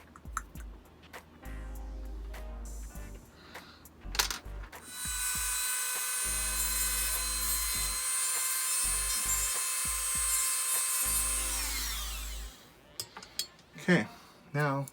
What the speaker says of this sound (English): I'm going to go ahead and cut a tiny section of that plastic out so that it fits snug.